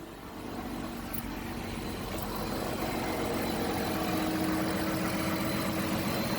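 A car engine idling with the air conditioning running, a steady continuous low rumble with a faint hum, close and unchanging, no voices.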